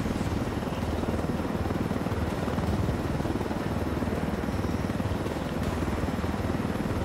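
A helicopter in the video game Ghost Recon Wildlands flies with a steady, continuous rotor and engine drone, loud and unbroken throughout with no talk.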